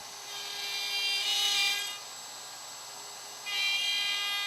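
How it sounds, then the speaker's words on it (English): A router with a straight bit and guide bushing cuts through-dovetail pins in a wooden board on a Leigh Super dovetail jig. A faint steady whine swells into two louder rasping cutting passes. "Pins are routed using the same E-bush and the included straight bit."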